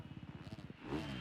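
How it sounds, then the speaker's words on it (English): Dirt bike engine in the Monster Energy Supercross 25 video game, a quiet, pulsing idle burble that rises into a brief rev near the end, faint and alone. "I'm revving my bike, but nothing's happening."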